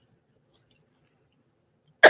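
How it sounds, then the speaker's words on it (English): A single sharp cough from someone eating apple mortgage cake, arriving abruptly at the very end after near silence. "Don't worry, I cough when I eat a lot of times."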